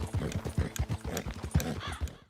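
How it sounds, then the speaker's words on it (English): Horse hooves galloping in Red Dead Redemption 2 make a quick, even clip-clop rhythm of close, loud thuds, with game sound effects mixed underneath. "you really are just tapping a button in sync with the horse's gallops"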